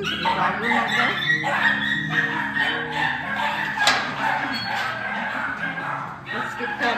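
Several dogs in a dog room bark, yip and whimper at a short distance in a continuous chorus of overlapping cries, with a person talking over them.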